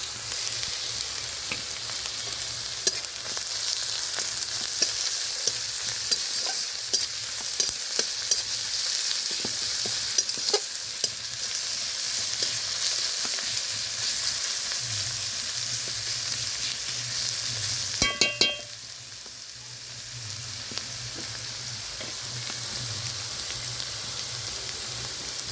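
Chopped garlic, with green chillies and onion, sizzles steadily in hot oil for a pangas fish curry, a continuous close hiss broken by scattered spatula clicks and one brief metallic clatter.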